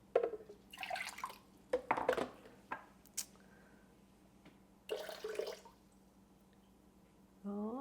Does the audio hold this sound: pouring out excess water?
yes